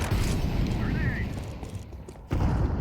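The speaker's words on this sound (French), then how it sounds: "Grenade." A grenade goes off in a Counter-Strike match: loud, dense broadband booming and rumble fill the clip under a voice, with a sharp fresh blast near the end.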